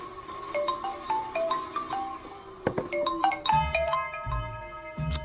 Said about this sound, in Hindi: अरे यार ये अभी क्यों फोन लगा रहा है?